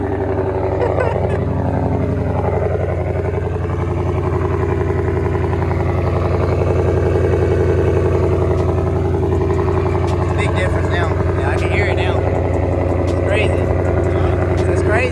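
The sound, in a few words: car engine with custom exhaust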